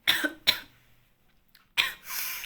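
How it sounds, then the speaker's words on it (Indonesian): A person coughs three times close to the microphone: two quick coughs, then a pause and one more followed by a throaty breath. "Batuk dulu."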